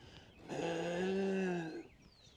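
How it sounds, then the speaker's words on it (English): A bull gives a soft, light moo, a single short, smooth, tonal call lasting about a second, close by and fairly quiet, with no speech over it. "you sure do have a little light moo"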